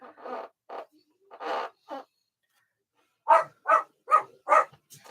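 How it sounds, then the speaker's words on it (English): Series of short yelping, yipping calls from jackals at night, a few scattered cries followed by a rapid run of four louder yelps, somewhat distant, no talking. "Hear that? The jackals in the night."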